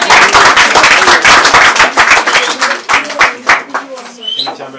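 A crowd at a children's birthday party claps in quick, close bursts that fade out over a few seconds, with voices talking over the clapping.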